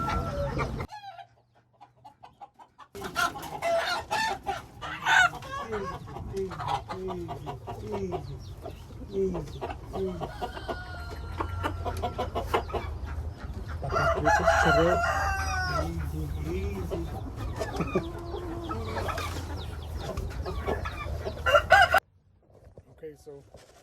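A rooster and hens at an outdoor swap meet crow and cluck, the repeated crows rising over steady clucking and chatter from the birds, close and fairly loud.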